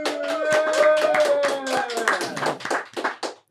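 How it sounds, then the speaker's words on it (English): A small group of people claps hands in a quick, uneven burst, with a voice and whooping running over the applause before it fades out near the end. "Oh, we're clapping again. Clap again."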